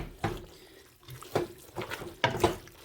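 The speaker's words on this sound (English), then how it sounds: "I might go ahead and add a little bit more of that pasta water." Salted pasta water poured into a pan of cream-of-soup sauce comes in three short splashing bursts, each a close, brief gush of liquid separated by quieter pauses.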